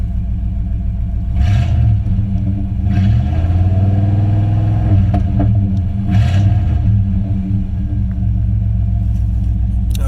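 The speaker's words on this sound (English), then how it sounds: "I'm going to rev it a little bit, just a little, because you want to make sure that tachometer is working" A third-generation Chevrolet Camaro with a slight misfire, its loud engine revved several times in deep, rising and falling swells over a heavy, rumbling idle, close up and alone.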